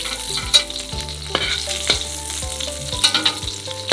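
Shrimp (golda chingri, giant prawns) frying in a pan for a Bangladeshi shrimp bhuna, with a steady sizzle and repeated scraping strokes of a spatula stirring, close and clear with no talking.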